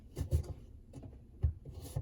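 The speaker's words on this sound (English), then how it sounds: "We're going to scrub this with our baking soda mixture." Dishwasher filter from a Frigidaire Gallery dishwasher being scrubbed with a baking soda mixture, short close rubbing strokes in an uneven rhythm, fairly quiet with no talking.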